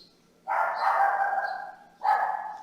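A small pet dog barks twice indoors during an art session: a long, yappy burst followed by a shorter one, both fairly close and clear, with no talking.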